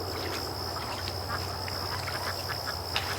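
Female Muscovy ducks quacking near the microphone, a series of soft irregular calls over a steady high electrical whine and low hum.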